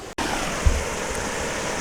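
Mountain creek water diverted into an aqueduct, a dense steady rushing roar, close and loud, with a brief gap near the start.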